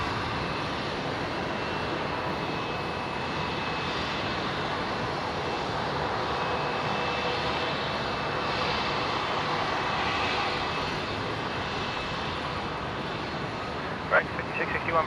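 Airliner holding on taxiway Alpha 4 at Brisbane International Airport after an aborted takeoff, its engines giving off a steady, continuous idling roar, with people talking over it and a few brief knocks near the end.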